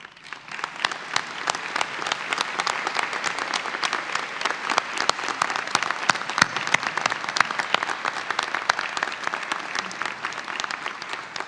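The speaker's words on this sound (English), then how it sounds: "please join me in thanking the faculty and staff of Western Piedmont Community College as they would stand to receive your applause" Sustained applause from a graduation ceremony audience at Western Piedmont Community College, dense and loud clapping from a large crowd filling the hall steadily for over ten seconds.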